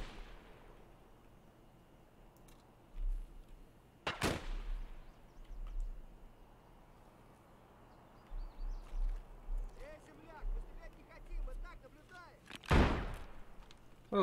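Sniper rifle shots in Escape from Tarkov ring out as a few sharp, loud cracks spaced apart, one near the start and another later, with quieter game rumble and a voice talking between them.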